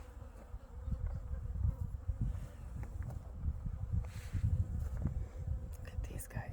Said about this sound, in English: I'm going to stop talking to hear the bees.